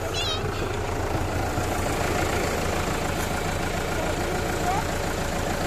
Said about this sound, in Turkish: Gördüğünüz gibi traktör geliyor arkadaşlar.